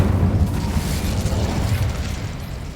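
An Incendio fire spell is cast in Hogwarts Legacy, giving a dense, rumbling whoosh of flame that holds steady and loud for the whole short stretch, with no talking over it.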